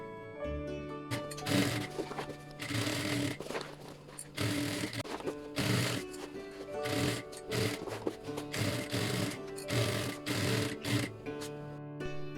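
A sewing machine stitches a tote bag handle in short, fast bursts separated by brief pauses, each run a quick rattling chatter of the needle, close and fairly quiet.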